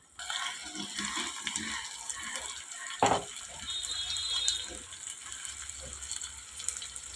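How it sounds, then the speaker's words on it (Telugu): Water splashes and trickles into a pan of fish curry with a brief louder gush near the middle, steady and close, no talking. "ఇప్పుడు నీళ్ళు వేసేసుకుందాం"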